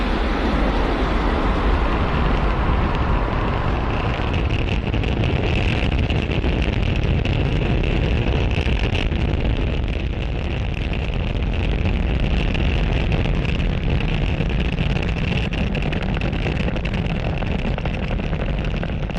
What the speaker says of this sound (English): That incredible view means that Falcon 9 has successfully lifted off from pad 40.